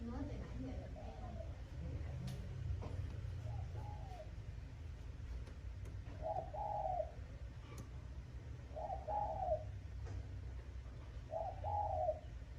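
Spotted dove cooing in a field-lure recording, a rhythmic two-part coo repeated about five times at regular intervals over a low rumbling background.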